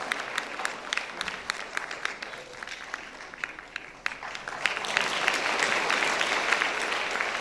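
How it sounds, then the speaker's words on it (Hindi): An audience at a church welcome gathering claps, a dense patter of hands that grows fuller and steadier in the second half, with no speech over it. "ये ताली बजाइए।"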